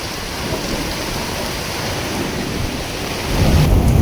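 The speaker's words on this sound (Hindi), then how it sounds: "तेज हवाओं के साथ में ये बारिश गर्जना और चमक के साथ में चारों तरफ" Heavy rain pours during a thunderstorm with strong winds in the mountains, a dense, constant hiss of rain with low thunder rumbling beneath, swelling louder near the end.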